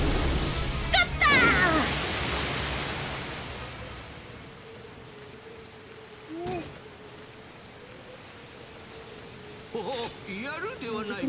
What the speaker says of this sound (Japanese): いつの間にか雨が降って